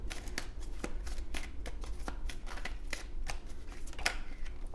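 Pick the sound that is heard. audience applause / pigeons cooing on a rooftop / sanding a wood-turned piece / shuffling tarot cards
shuffling tarot cards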